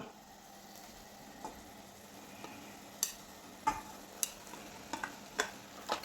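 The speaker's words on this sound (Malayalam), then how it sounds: "ചോറിട്ട് കൊടുത്തൊന്ന് ഇളക്കി കൊടുക്കണം" Half-cooked rice is turned in a pan with shrimp masala, giving soft scraping stirs and several sharp spoon taps against the pan over a quiet low sizzle, fairly faint with no talk.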